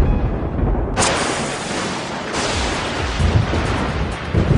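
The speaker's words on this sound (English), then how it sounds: "We've all seen lightning during a thunderstorm" Thunder from a lightning strike during a thunderstorm, a loud crack at about one second followed by a long, heavy rumble that rolls on and swells again, with no speech.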